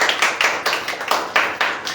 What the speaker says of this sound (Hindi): आप लोग ताली बजा के इनका स्वागत कीजिए।